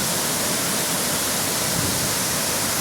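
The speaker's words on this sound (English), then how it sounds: "what a magnificent fall this is" Burney Falls in northern California roars as a steady, dense wash of falling water, loud and unbroken throughout with no voices.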